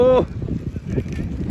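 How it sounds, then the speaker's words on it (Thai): Cold wind gusting across a grass football field, buffeting the microphone with a low, uneven rumble that follows a brief voiced sound at the start. "ลมหนาวมาเยือนอีกแล้ว"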